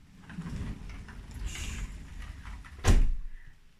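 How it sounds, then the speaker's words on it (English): An indoor door is pushed shut with one sharp thud near the end, heard close and alone over a soft background hiss of rain outside. "So I'm just going to close the door"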